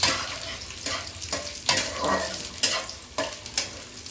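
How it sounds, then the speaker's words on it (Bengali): Food frying and sizzling in a pan, a continuous close sizzle broken by several sharp stirring scrapes and clatters at irregular intervals, with no talk. "এটা একটু লাল লাল করে ফ্রাই হবে"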